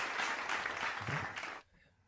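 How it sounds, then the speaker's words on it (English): A crowd claps and applauds loudly for about a second and a half, then the applause cuts off abruptly into near silence. "Let me get my hand claps ready"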